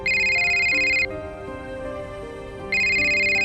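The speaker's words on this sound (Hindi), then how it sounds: "कि राजेश का फोन बज पड़ा" A phone rings loudly in bright electronic tones, pauses briefly for a lower melodic passage, then the ring resumes.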